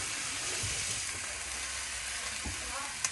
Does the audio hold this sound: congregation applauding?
no